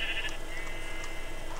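A sheep in Minecraft on PS3 bleats once in a short, nasal cry, heard close against a faint background hum.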